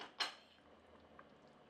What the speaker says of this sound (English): I'm going to put this lid just halfway, just to allow some of that water to evaporate